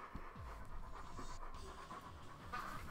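A dog pants close by in quick, rhythmic breaths that continue steadily through the short stretch, fairly quiet and with no one talking.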